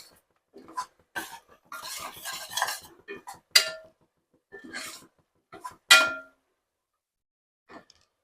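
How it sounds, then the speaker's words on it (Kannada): A spoon clanks and scrapes against a pot while ground mint-coriander masala is fried in oil for egg biryani, in scattered bursts of metallic clinks and rattles separated by short silences. "ಅಲ್ಲಿವರೆಗೂ ಎಣ್ಣೆನಲ್ಲೇ ಚೆನ್ನಾಗಿ ಫ್ರೈ ಮಾಡ್ಕೋಬೇಕು."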